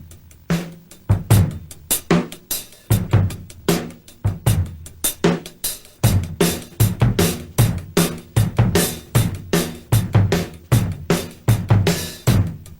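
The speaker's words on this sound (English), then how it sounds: "And to put a little funk and rock in both those, it could sound like this." Close, loud drum kit pattern mixing funk and rock feels, from a 1989 drum lesson: crisp repeating snare hits, bass drum kicks and hi-hat strokes in a tight, driving rhythm with no talking.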